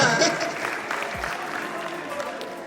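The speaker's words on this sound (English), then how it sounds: "Okay, round of applause." Audience at a digital training orientation program giving brief applause, loud at first and tapering off quickly, with some voices mixed in.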